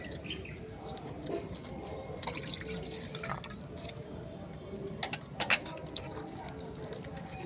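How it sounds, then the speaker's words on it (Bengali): Two cups of water poured into a pan on a lit stove while making jalebi, a steady soft splashing trickle heard close up, with a few sharp clinks and faint background sounds. "এবার আমি জল দিয়ে দিচ্ছি, 2 কাপ জল দিচ্ছি।"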